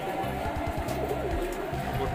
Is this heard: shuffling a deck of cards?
no